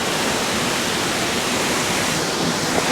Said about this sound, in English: we have made it here to Thac, the Love Waterfall in Sapa